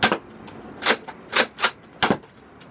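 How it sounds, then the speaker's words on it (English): A Nerf Rotofury toy blaster fires Mega Dart shots: five sharp, close snapping pops spaced unevenly across the moment, each with a short airy burst, in a quiet room with no talk. "I'm gonna fire a shot."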